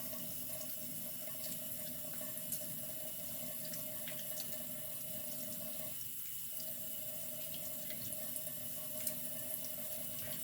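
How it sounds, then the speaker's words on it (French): Cold water runs steadily from a kitchen tap while boiled eggs are peeled under the stream. The flow is continuous and close, with faint splashes and no talking. "Écalez-les sous un filet d'eau froide"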